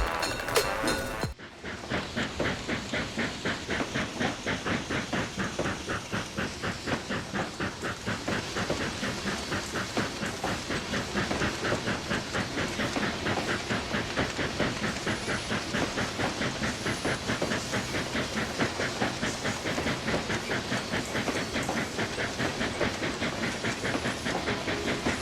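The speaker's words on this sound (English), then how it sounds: "You've managed to get the steam train chugging along nicely." A steam locomotive in a train simulator video game chugs in a steady, even rhythm with constant hissing, running alone and moderately close for the whole stretch.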